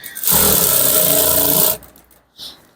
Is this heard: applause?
no